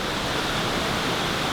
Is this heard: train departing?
no